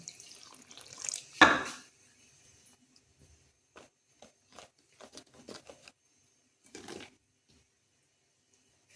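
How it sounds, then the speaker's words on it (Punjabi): Water runs briefly from a tap into a bowl, followed by a series of small clinks and splashes, close by with no talking. "ਥੋੜਾ ਆਪਾਂ ਪਾਉਣੇ ਆ ਪਾਣੀ"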